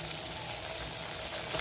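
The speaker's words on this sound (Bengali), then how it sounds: "এবার আমি মশলাটা বসিয়ে দিয়েছি কড়াইটা। এবার এর মধ্যে মটনটা দিয়ে দেবো।" Boiled mutton sizzling in hot masala in a wok, a dense, steady frying hiss, close and low in level, brief and without talk.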